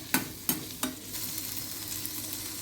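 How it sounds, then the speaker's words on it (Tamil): Sliced ginger, green chili and carrot sauté in a pan for Maggi-style ramen, with three sharp stirring clatters followed by a soft, steady sizzle close by. "நைஸாக கட் பண்ணி வச்சுருக்கக்கூடிய இஞ்சி, பச்சை மிளகாய், கேரட் இது எல்லாத்தையும் நல்லா இப்போ வதக்கிக்கலாம்."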